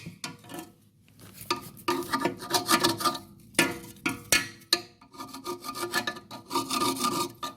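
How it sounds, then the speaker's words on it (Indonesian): A chisel scrapes rust from a corroded water pump plate in repeated rasping strokes, with short pauses between bursts of close, harsh scraping. "karat ini harus kita hilangkan guys, kita gosok pakai tatah, atau bisa juga, pakai amplas"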